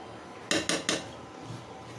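Three quick metallic clinks ring out as a utensil knocks against a pot of hilsa fish curry while it is stirred, close and fairly loud, followed by quiet.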